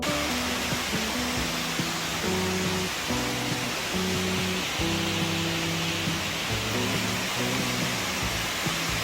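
Ssangyong Falls on Seoraksan roars as a dense, steady rush of falling water that fills the whole scene at close range, with faint tonal murmurs running underneath.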